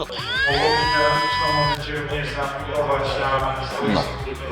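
A small power drill bores through a die-cast Hot Wheels toy car, spinning up to a steady, high, close whine and then biting into the metal with a rougher grinding sound.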